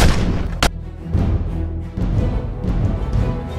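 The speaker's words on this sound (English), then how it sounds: "We're under heavy fire." Heavy gunfire and explosions in a movie trailer sound as dense, continuous booming with a sharp crack near the start, loud and rumbling throughout.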